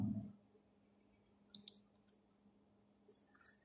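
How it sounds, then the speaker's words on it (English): A few faint, crisp mouse clicks in a quiet room as a spreadsheet cell is selected in Excel, heard as short clicks in two small clusters over a low steady hum. "Click on the cell where you want to enter the formula."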